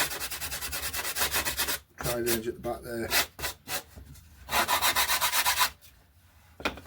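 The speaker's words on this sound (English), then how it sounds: "then what I'll do is just take a sanding stick and just clean that up" A sanding stick rubs back and forth along the glued wing edge of an RC Coyote glider, giving close, repeated scratchy strokes with short pauses, while a voice speaks briefly.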